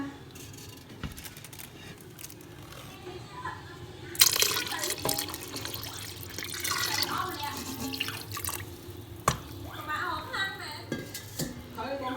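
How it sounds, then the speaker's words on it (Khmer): Water is poured into a metal pot while rice porridge is cooked in an Instant Pot, the splashing rising suddenly after quiet clinks and drips and continuing amid pot clatter, with a voice speaking throughout. "ខ្ញុំនឹងធ្វើការថែមទឹកទៀត"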